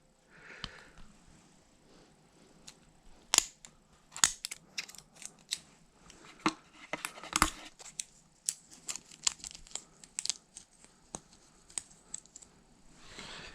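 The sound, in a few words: peeling sticker off Samsung Galaxy A21 phone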